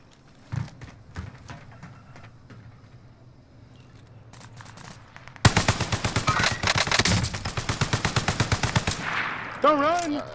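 Rapid automatic gunfire in the video game Call of Duty: Modern Warfare, a dense, loud burst of rhythmic shots after a few scattered single cracks, followed by a short electronic whine.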